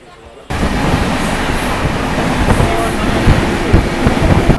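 Uttarbanga Express train running from Kolkata toward Darjeeling, a loud continuous rumble and rattle of the coach that starts abruptly and holds steady, with wind buffeting the microphone.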